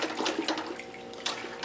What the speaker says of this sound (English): we're just going to stir that right into our mash water